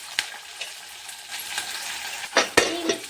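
Onion, tomato and green chillies sizzle in a pan while being stirred for chitranna, with a steady fry hiss and a few sharp scrapes and clinks of the spoon, loudest near the end.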